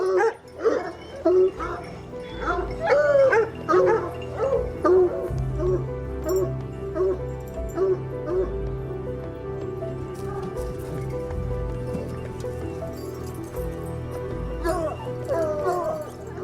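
Several hunting dogs bark and yelp in a rapid chorus in kennels, loud at first and then fading into scattered yips amid background commotion.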